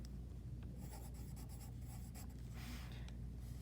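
A pen or pencil scratches out a number by hand on paper, with short irregular strokes and small pauses close to the microphone under a low steady hum, with no talking.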